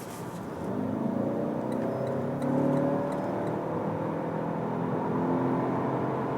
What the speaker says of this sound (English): we're getting into the German Autobahn here and accelerate it from 40 kilometers an hour to,